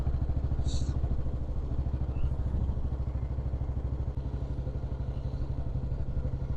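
A Bullet motorcycle engine drones steadily and close throughout, a continuous low rumble with a faint clatter, and no clear talk.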